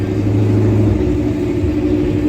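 Station wagon engine at a laid-back cars and coffee meet, a steady close rumble with a low hum that settles after about a second, no talking.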